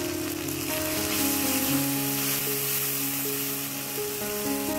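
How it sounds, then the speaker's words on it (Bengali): Ginger-garlic paste with onion, salt, chili powder and turmeric frying in a pan for Bengali chicken kosha: a steady, close hiss of sizzling oil with faint stirring, under a sustained tonal background, no talking. "মশলা আমাদের ভালোভাবে কষানো হয়ে গেছে"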